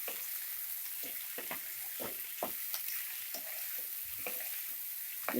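Beans palya being stirred in a pan after cooking under a lid, giving a soft continuous sizzle with irregular scraping and clinking spatula strokes, fairly quiet and close.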